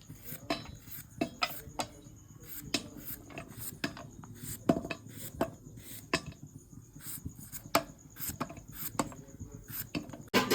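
Knife thinly slicing raw plantain into chips, a quick run of close, crisp cuts repeating at a steady rhythm with faint clicks against a board, no talking.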